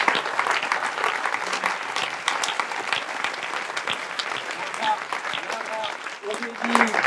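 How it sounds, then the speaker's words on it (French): Audience applause for the crew at a French event, brisk scattered clapping that continues for several seconds, with voices talking over it toward the end. "On va les applaudir avec à la direction"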